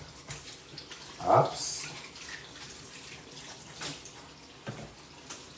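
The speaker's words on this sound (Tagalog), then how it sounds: "hugasan na rin natin sa tumutulong gripo" Ginger is rinsed under a running kitchen tap, with a steady stream of water and a louder splash partway through, while a person briefly exclaims.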